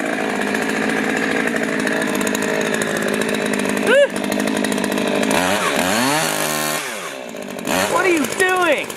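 A running chainsaw with a steady, loud engine drone and revving pitch changes, mixed with people talking and shouting over it throughout.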